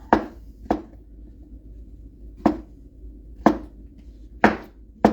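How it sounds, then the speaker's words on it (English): A knife slices through mushrooms on a cutting board in six sharp, evenly spaced chops over a faint steady hum, close and clear with no talking. "We've got our mushrooms now. I'm going to slice those a little bit."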